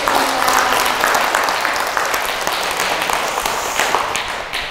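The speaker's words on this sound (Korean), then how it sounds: "현장에 박수 부탁드립니다." Audience applause during a Catholic parish lecture, a dense steady wash of clapping that fills the room for the whole stretch and fades slightly toward the end.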